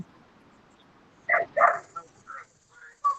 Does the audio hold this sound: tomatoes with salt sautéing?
no